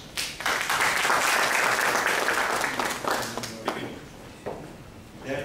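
An audience applauds at the close of a lecture on Ahiska Turks in Azerbaijan, a dense, steady clapping that fades gradually over several seconds with no voices on top.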